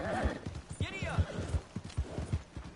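A horse gallops in Red Dead Redemption 2, its hoofbeats pounding in a fast, regular rhythm close by, with a brief whinny near the start.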